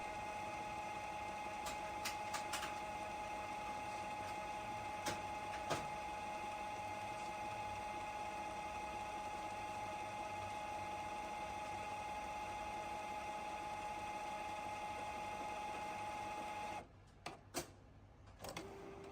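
A Canon G3010 inkjet printer running its print head cleaning cycle, a steady close mechanical hum with tonal whine and occasional small clicks, ending in a few brief irregular knocks near the close.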